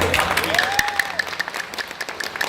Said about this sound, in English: giving her a proper round of applause